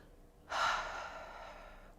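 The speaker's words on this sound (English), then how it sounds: "Take a deep breath." A single deep breath drawn in sharply and then slowly let out, close and breathy, heard alone in a quiet room.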